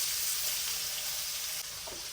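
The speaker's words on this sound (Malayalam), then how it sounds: "സവോള, തക്കാളി ഇതെല്ലാം നമ്മള് വെളിച്ചെണ്ണ ഒഴിച്ചിട്ട് നന്നായിട്ടൊന്ന്" Onion and tomato fry in coconut oil with a steady, loud, close hiss of sizzling, and faint stirring noises near the end.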